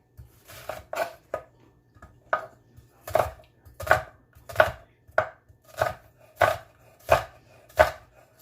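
A knife chops through a red onion on a cutting board, about a dozen sharp, evenly spaced thuds that grow more regular and slightly louder as the cutting goes on, with no voices.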